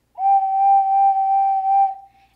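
An ocarina holds one clear, steady note with light vibrato for about two seconds, close and fairly loud, ending cleanly into silence.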